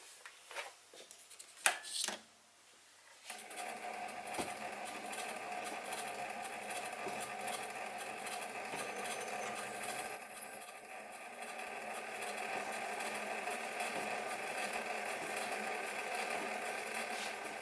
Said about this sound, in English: So this is my 1/4 inch reamer, and I'll be reaming at a speed of about 200 RPM.